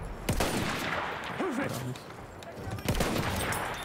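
A few sharp gunshots crack in a Battlefield 1 game battle, with a burst near the start and another later, over faint background voices and ambient noise.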